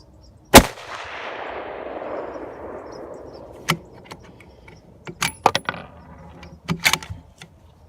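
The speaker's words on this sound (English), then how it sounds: "So I made a 4/10 adjustment to the left and took some more shots." A 6.5 PRC Ruger Hawkeye rifle fires one loud, sharp shot close by, and a long rolling echo trails after it outdoors. Several short metallic clicks and clatters follow, like the bolt being worked.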